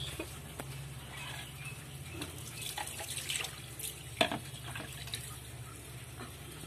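Tap water runs steadily while a pet named Piku is being bathed, a soft continuous flow with occasional small splashes and knocks, fairly faint throughout.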